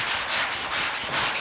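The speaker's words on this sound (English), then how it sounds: "let me see if some of this is gonna sand out" Hand sanding block worked over epoxy on a car's front fender during a GTO restomod build, giving about six steady back-and-forth rasping strokes, close and fairly loud, with no talking.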